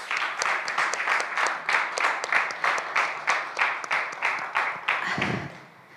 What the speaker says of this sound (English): At least a big round of applause.